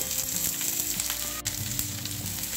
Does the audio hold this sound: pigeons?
no